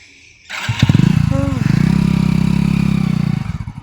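A motorcycle engine in a village starts up close by and runs at a steady, rhythmic putter for about three seconds before dying away, with a voice briefly heard.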